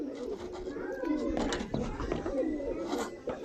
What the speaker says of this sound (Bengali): এই সব কবুতর ছাড়া আছে উপরে, বাচ্চা থেকে বড় সবাই।